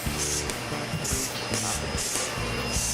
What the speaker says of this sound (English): She gets her spray tan.